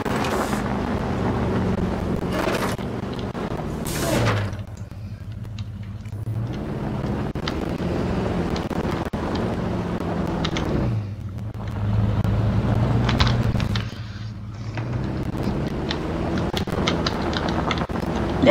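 A vehicle driven in Jurassic World Evolution 2 gives a steady engine drone with rising and falling swells and windy rushing noise, moderately loud and continuous, with no talk.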